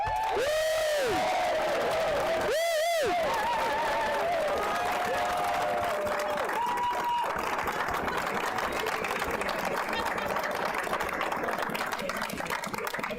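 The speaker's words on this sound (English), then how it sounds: "we also need to give a huge round of applause to our team at British Airways" Spectators at a football match between VAFC and British Airways cheer and applaud in a continuous roar of clapping and shouts, with long tonal calls or horn-like blasts rising over the crowd early on.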